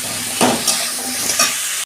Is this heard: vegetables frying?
yes